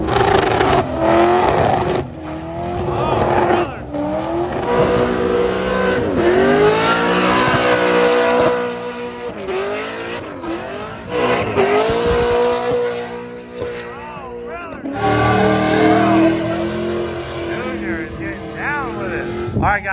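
Cars rev hard and spin their tyres in a burnout contest, engines roaring loudly near and far with rising and falling pitch, several bursts in a row, a crowd and voices faintly beneath.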